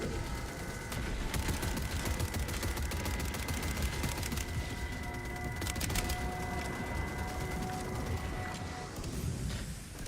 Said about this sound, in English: Oh my god, Gatling Sentry.